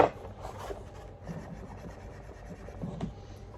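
The worn spinner of a Karcher T5 Racer patio surface cleaner, gritty after hours of use, makes a faint, steady rough scraping whir with a slight knock at the start.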